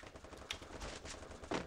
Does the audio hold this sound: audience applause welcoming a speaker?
no